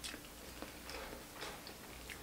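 Close, quiet chewing of a soft egg sandwich with cheese, a few soft bites and wet mastication sounds spread across a short stretch, with no talking.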